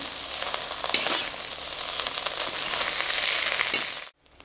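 Egg fried rice is stirred in a hot pan, giving a loud, continuous sizzle broken by scraping strokes of the spatula. It cuts off abruptly at the end.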